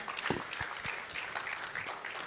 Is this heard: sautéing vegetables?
no